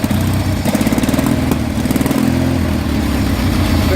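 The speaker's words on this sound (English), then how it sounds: "It has a bad bearing in the PTO clutch, I'm pretty sure. That's what's making that noise." A garden tractor engine with a worn PTO clutch bearing runs close and loud, a continuous rough chugging drone with a rhythmic pulsing rattle layered over it, steady for the whole few seconds with no talking.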